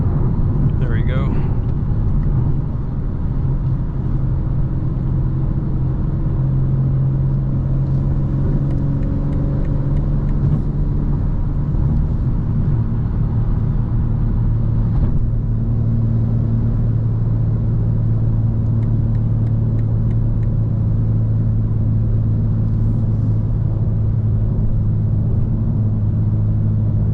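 A 2025 BMW M4 Competition xDrive cruising at night through Atlanta, with a steady, loud low engine drone and road rumble that holds even and smooth throughout, without sharp revs.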